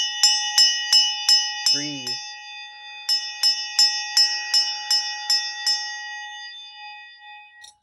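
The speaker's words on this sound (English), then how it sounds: "I'm going to ring this bell" A small meditation bell is struck repeatedly in a clear, ringing series of bright metallic tones with lingering resonance, then a pause and a second run of strikes; a single spoken word breaks in between.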